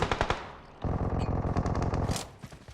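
Rapid bursts of automatic gunfire in PUBG Mobile rattle in quick succession, starting with a few separate shots and then a sustained volley, loud and close.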